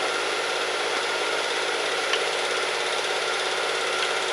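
A wood lathe spinning a spalted red oak bowl at 1,000 RPM, a steady unbroken motor whir with a constant broadband hum, close and even throughout.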